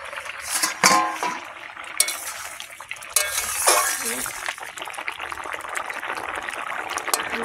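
A spoon stirs boiled potatoes, Malabar spinach and ridge gourd in a pot, with scraping clinks and soft sloshing, close and intermittent, with a voice talking over it.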